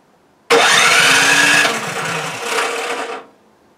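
A snow blower engine cranks and fires with the choke set, catching abruptly and running loud and rough for a few seconds before cutting out, close by, with no talk.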